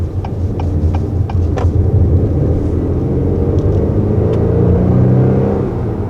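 A 2021 Acura TLX Advance sports sedan accelerates quickly from inside the cabin, a steady loud engine rumble and whir rising in pitch over about six seconds, with a few faint ticking clicks early on.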